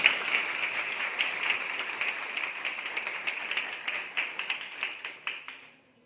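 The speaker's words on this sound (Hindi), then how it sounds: "आपकी तालियां मेरे शब्दों से कहीं ज्यादा धन्यवाद ज्ञापित कर रही" Female students in a workshop hall applaud to thank a speaker, a dense round of clapping with audible individual claps that holds steady, then thins out and stops.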